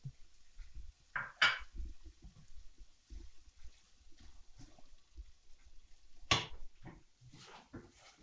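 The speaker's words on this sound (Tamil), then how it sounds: "இந்த மாதிரி முட்டையும் அந்த மசாலாவும் நல்லா கலக்கணும்" Boiled egg cubes being mixed into onion masala in a pan make soft, muffled scraping and stirring with a couple of sharper utensil knocks against the pan.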